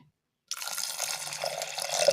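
Water pours steadily into a metal pressure cooker holding peas after a moment of silence, splashing and gurgling close by.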